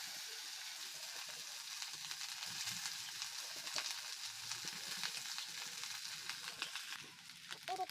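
Leftover cooked rice fries with turmeric in a pan for Chhattisgarhi bagra bhat. A steady, close hiss and sizzle runs throughout, with faint scrapes near the end and no talking.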